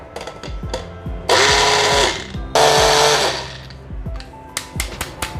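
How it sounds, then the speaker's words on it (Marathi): A mixer grinder grinding thandai spice mix with poppy seeds roars in two short, loud pulses separated by a brief gap, with mechanical clicks and clunks around them. "परत मिक्सरमध्ये फिरून घेऊया"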